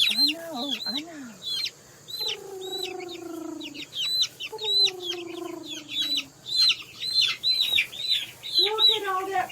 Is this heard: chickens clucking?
yes